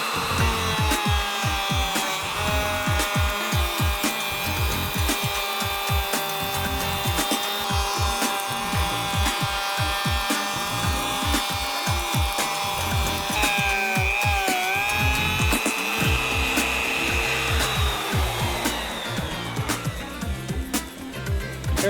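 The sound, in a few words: wing cutter cutting a spline slot in wood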